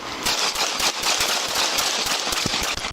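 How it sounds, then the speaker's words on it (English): Gunshots crack in a tight, rapid burst near a school parking lot during an armed police call, a string of loud sharp reports close by amid chaotic noise. "Shots fired. Shots fired."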